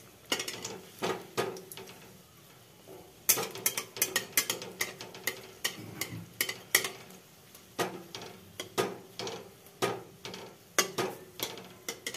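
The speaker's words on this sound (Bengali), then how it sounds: "এবার এগুলো ভেজে নিচ্ছি। মিডিয়াম আঁচে এটা করব।" Snack pieces frying in oil on medium heat, with irregular crackles, scrapes and spoon clatter against the pan, up close and sparse, with no talking.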